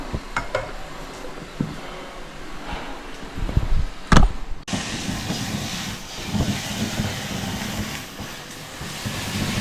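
A mixer grinder whirs on dried chillies, mustard seeds, fenugreek and garlic, with loud bumps and clatter before a steady, rushing, hiss-like drone takes over for the rest, close and with no voice.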